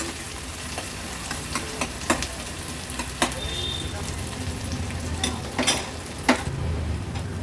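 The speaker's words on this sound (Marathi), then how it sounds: "कांदा तेलावर व्यवस्थित आपल्याला परतून घ्यायचा आहे" Finely chopped onion fries in oil as part of a Konkan-style jackfruit biryani, giving a continuous sizzle overlaid with repeated scraping and clinking from a spoon stirring the pan.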